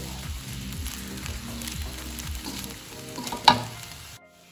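Fried rice with seasoning is stirred in a pan over low heat, giving a steady close sizzle with rhythmic scraping strokes and one sharp clink near the end before the sound cuts off.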